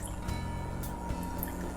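Olive oil is poured over marinated meat in a quiet kitchen, giving a soft continuous trickle with a few faint drips and light clinks.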